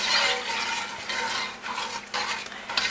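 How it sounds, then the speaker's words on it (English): Brine being stirred in a pot on a high stovetop burner for pickling green beans: a steady scraping and swishing of utensil against the pot, continuous and close, with no voices. "I'm just gonna stir it to dissolve."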